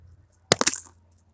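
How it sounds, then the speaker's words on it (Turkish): A mobile phone drops onto hard ground, giving a short sharp clatter of two or three quick impacts near the mic, then quiet. "Oy çok güzel düşüyor lan."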